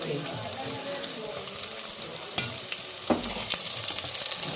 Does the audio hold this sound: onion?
yes